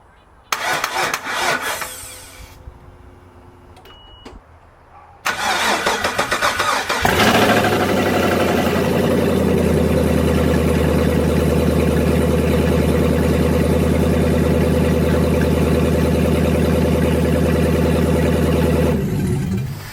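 A V8 engine in a Land Cruiser cranks in a few short bursts, then catches and roars to life before settling into a loud, steady, deep idle that cuts off at the end.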